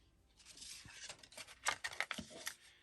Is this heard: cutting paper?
yes